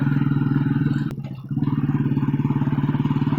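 A motorcycle rides along a narrow, winding jungle road in the Western Ghats, its engine thumping in a fast, even pulse, close and steady, with a brief dip and a sharp click around the middle.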